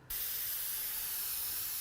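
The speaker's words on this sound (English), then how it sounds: "So I'm just spraying a few, and some of them goes in here also" Spray paint hisses steadily from a can onto a fantasy art painting, a continuous close airy hiss that starts abruptly and holds for the rest of the moment, with no voices.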